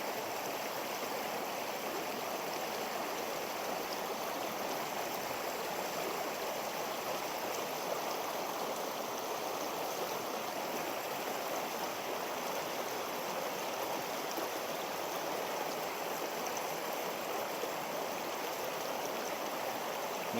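Steady rushing of a shallow mountain stream tumbling over rocks and churning up bubbles, heard up close and continuous throughout, with no voices over it, at a tenkara fly fishing spot.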